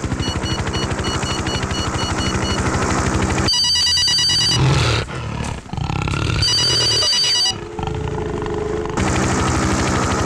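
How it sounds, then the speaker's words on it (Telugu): A loud electronic phone ringtone repeats in pulsing bursts. Harsh, noisy stretches break in between, and the ringing returns later. "రింగ్ అవుతుంది కానీ ఎవరు ఎత్తట్లా."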